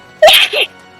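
One quick, close sneeze, a sharp burst that breaks into two parts and then falls silent.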